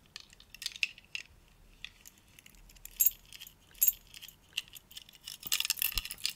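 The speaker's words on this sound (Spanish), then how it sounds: "de ese bolsillo tengo las llaves de mi casa" House keys jangle as they are pulled from a handbag pocket, with bursts of light metallic clinks and rattles, some sharper jingles, and a busier flurry at the end, close and fairly quiet with no talking.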